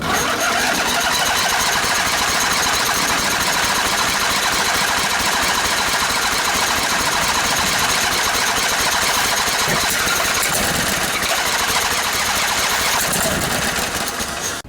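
A Briggs and Stratton Intek twin engine from a junkyard riding lawnmower, strapped to a table, cranks loudly and steadily without catching, a dense continuous mechanical churn running the whole time.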